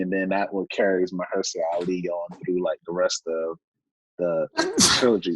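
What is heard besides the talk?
sneeze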